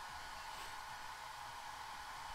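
A hair dryer runs steadily in the background of a room, a constant airy whoosh with a faint motor hum, unchanging throughout.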